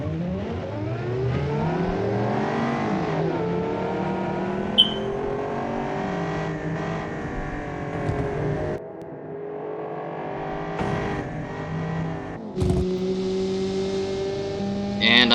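AI race cars pull away in the video game BeamNG, engines revving up through rising gear sweeps and shifts, loud and continuous, with a brief tire squeal near the end.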